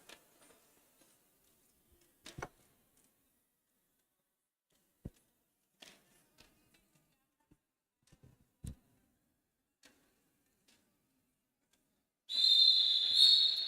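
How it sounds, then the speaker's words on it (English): A referee's whistle at the start of a roller derby game gives one sharp, loud, sustained blast near the end, after a long quiet stretch broken only by scattered faint clicks and taps. "There's the first whistle."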